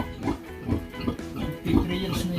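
A breeding sow, around three years old and a mother of several litters, grunts in repeated low snorts at a pig farm, with background noise around her.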